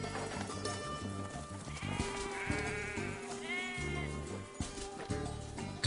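Goats bleat in a forest pasture, several quavering calls overlapping at moderate distance above a low steady rumble.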